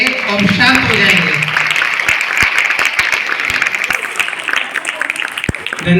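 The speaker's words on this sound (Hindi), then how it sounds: "सभी बच्चे एक बार जोरदार तालियां बजाएंगे और शांत हो जाएंगे।" Children at a Republic Day school event break into loud, sustained clapping, many hands pattering close and steady for several seconds while a voice speaks through the start.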